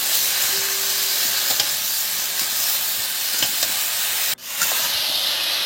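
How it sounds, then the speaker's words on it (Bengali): Ridge gourd and potatoes fry in a hot pan with a loud, steady sizzle and hiss, close up, while faint stirring scrapes come through; the hiss briefly drops near the end, then resumes. "ঝিঙের কি আওয়াজ"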